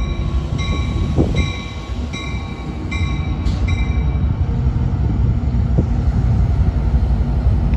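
An Amtrak Capitol Corridor train arrives at Santa Clara Great America station in California with a loud, steady rumble of railcars rolling past, plus a few short high-pitched tones early on.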